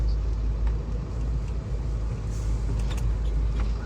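An empty truck with no load rolling over a badly damaged road in Maharashtra, heard as a deep, steady rumble with faint rattles and knocks, quite close and with no talk.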